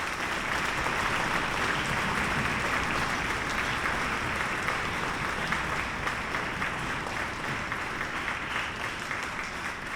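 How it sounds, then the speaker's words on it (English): A school winter concert audience claps for the theater crew, producing sustained, even applause from a large crowd filling the hall for the full stretch. "I'd like to give them a round of applause for hosting us tonight"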